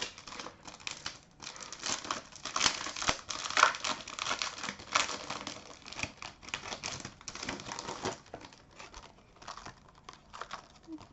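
Paper being peeled and crinkled off stamps, close and crackly, with irregular bursts of rustling and tearing over several seconds and quiet gaps between.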